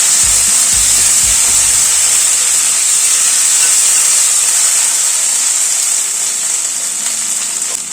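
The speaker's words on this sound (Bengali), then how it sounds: "আদা আর কাঁচা লঙ্কাটাকে হালকা করে একটুখানি" Ginger and green chili paste frying in a pan, a loud steady sizzle and hiss that holds throughout, with a few soft thumps of stirring near the start.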